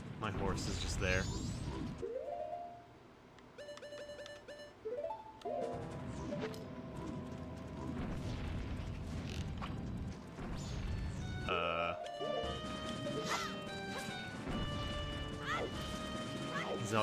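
A horse in Zelda: Majora's Mask gallops with rhythmic hoofbeats and a neigh amid crashing game effects and musical tones, with a person talking over parts of it.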